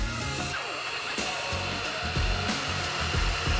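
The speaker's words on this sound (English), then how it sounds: "It's a freaking vacuum." A small rechargeable desktop vacuum runs continuously with a steady, high-pitched motor whine, close and fairly loud, with slight shifts in tone as it moves.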